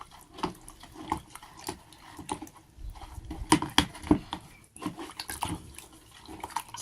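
Homemade Handy Andy cleaning detergent, made from water and calcium carbonate, is stirred in water until dissolved, giving irregular sloshing, trickling and clinking bursts up close, with brief quiet gaps between strokes.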